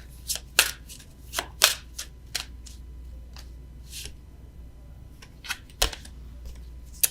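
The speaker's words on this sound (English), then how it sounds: "let me get an oracle card for you" Oracle card deck being shuffled in a quiet room, a series of crisp riffling bursts and soft slaps spaced irregularly, close and moderately loud over a faint low hum.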